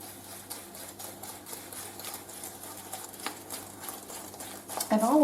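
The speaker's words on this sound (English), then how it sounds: "It's a 1 cup of sugar, and you just whisk that through." Whisk scraping through four lemons' worth of zest and juice with a cup of sugar in a bowl for lemon curd, a rapid, steady rattling stir, moderately close and fairly quiet, with no one talking.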